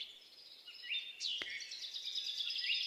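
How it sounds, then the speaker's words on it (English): Birds sing among trees in a summer forest, a few bright warbling phrases and chirps, faint and somewhat distant over quiet background, with one sharp click midway. "And here we notice this beautiful sound of these birds that you are listening to."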